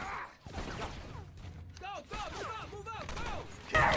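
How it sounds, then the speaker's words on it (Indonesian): Gunfire crackles in bursts amid chaotic action sounds, with shouting voices and clattering, ending in a loud blast. "Di awal film kita diperlihatkan aksi tembak-tembakan."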